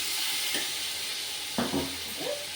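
Tomatoes dropped into a pan of frying onions and ginger paste for mutton biryani, a loud steady sizzle with a burst of hissing and soft stirring scrapes as they go in, close and without talk.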